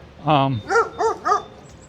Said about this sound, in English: Hey, puppy dog, what are you doing?